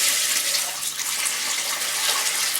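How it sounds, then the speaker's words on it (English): Water poured a little at a time into a bucket for soaking a horse's foot: a steady, close splashing trickle with a bright hiss, running continuously without pause and with no talk. "pour some water into the bucket."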